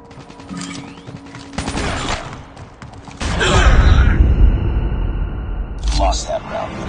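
Call of Duty gunfight sounds: rapid bursts of gunfire and mechanical clatter, then a loud rumbling blast and further shots, with game announcer speech over parts of it.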